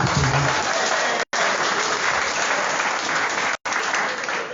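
Audience applause in a hall, loud and dense, continuous clapping with two brief cuts, no talk over it.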